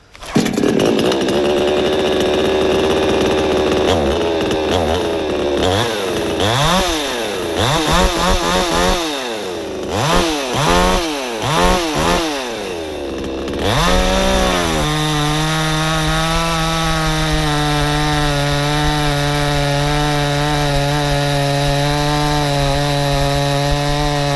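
A Grita petrol chainsaw idles, then revs up and down repeatedly as it bites into a hornbeam log, before settling into a steady, loud engine drone.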